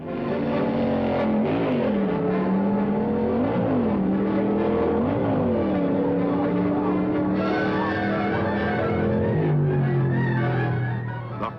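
Two cars from 1962, a Dodge and a Royal Pontiac, make a stock eliminator drag run. Loud, continuous engine roar rises and falls with shifts and has a slightly distorted, old-recording quality.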